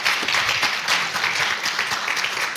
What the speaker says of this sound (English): let's give a warm round of applause to Curtis